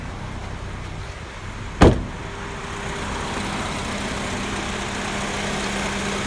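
A car's AC compressor clicks off with a single sharp clack while the engine keeps idling in a steady low hum throughout.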